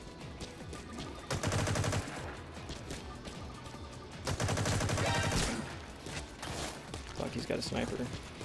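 Sniper gunfire in the Metal Gear Online 3 video game, two loud sustained bursts of rapid shots with quieter pops between them, a player's voice heard over the shooting.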